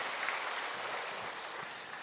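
A church congregation gives a brief, even round of clapping in praise to God, a dense steady wash of applause at moderate distance without any voices standing out.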